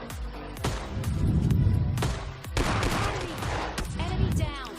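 Video game shooter gunfire rings out in several loud close bursts with sharp reports and echoing tails, mixed with game sound effects and brief in-game voice fragments.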